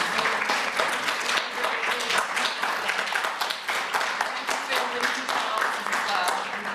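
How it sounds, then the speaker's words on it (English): Audience applause for conference panellists at a women's day breakout session, a steady wash of many hands clapping that holds at even loudness throughout. "please join me in a final round of applause for our panellists"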